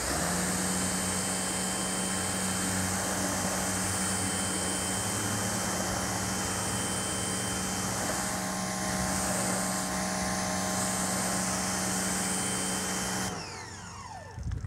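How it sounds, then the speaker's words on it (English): A pressure washer rinses road-film remover and wheel brightener off a car, a steady loud high-pitched motor whine with spray hiss that runs unbroken for about thirteen seconds, then cuts off abruptly. "and pressure wash this off."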